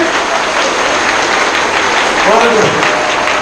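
Schoolchildren in a classroom clap together in a dense, steady wash of hand claps that fills the whole moment, loud and close, with voices mixed in beneath.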